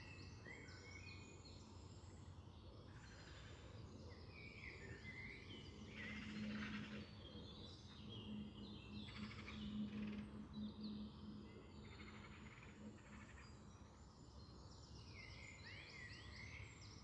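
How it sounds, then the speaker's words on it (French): Birds chirp and call intermittently outdoors during a guided meditation, a faint scattered chorus at a distance with a low steady ambience underneath and no voice present. "Vous pouvez être à l'écoute des oiseaux"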